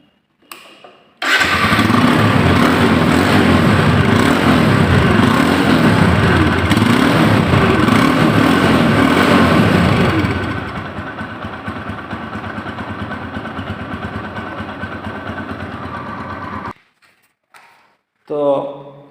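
A TVS Apache RTR 160 motorcycle engine runs at idle, a loud, steady pulsing putter close by that drops to a lower, quieter idle midway, then cuts out, with brief voices after.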